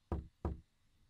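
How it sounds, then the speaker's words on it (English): Two sharp knocks on a wooden door in the video game Noel The Mortal Fate, evenly spaced and close, with a brief decay after each and quiet afterward. "I think I've used that generic knocking sound in something I made in the past."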